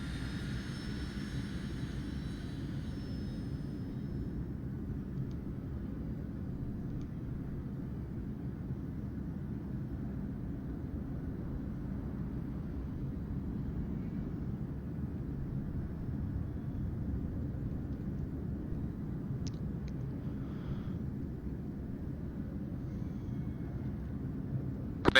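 Steady jet engine drone from a military aircraft taxiing toward the runway in a combat flight simulator, a continuous low rumble holding at an even level throughout, with no voices present.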